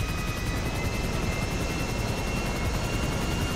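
A helicopter in the video game GTA V Online gives a loud, steady rotor thrum with a fast rhythmic chop, continuous and close throughout with no talk.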